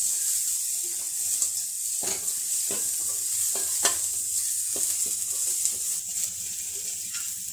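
Halved small onions (shallots) sauté in oil on a low flame for hotel-style sambar, giving a soft continuous sizzle. Sharp scraping clicks of a ladle stirring the pan break in every second or so, close and fairly quiet, with no talk.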